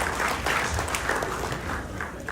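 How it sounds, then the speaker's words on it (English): A crowd at a children's carnival band launch gives steady, close applause for a young dance group, a continuous dense patter of many hands without pause. "So please give them a round of applause"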